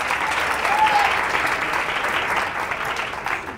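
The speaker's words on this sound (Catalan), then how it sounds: "et fem aquest aplaudiment" Studio audience applauding a contestant on a Catalan TV word quiz show, a steady even wash of clapping holding at a constant level for a few seconds.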